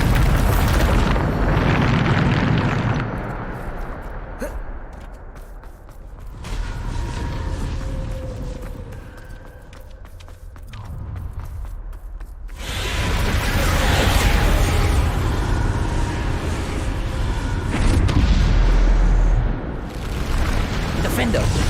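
Bombarda explosion spells in the Hogwarts Legacy video game, repeated booming blasts with rumbling bursts over game music and effects, loud and close, with a voice calling out spell names.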